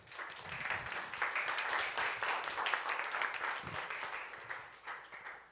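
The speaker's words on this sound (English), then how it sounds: "So everyone give him a round of applause." An audience applauds to welcome a speaker onto the stage at a talk, steady crowd clapping at moderate level that tapers off near the end.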